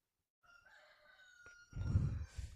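Roosters crow one after another, a long drawn-out call held near and clear, then a louder, rougher crow and a rustling burst near the end, with no talk.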